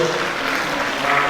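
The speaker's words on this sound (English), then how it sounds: "Please, let's give me a round of applause." Steady applause from an audience at a university inaugural lecture in Abeokuta, a dense even patter of clapping that holds for the whole moment without a break.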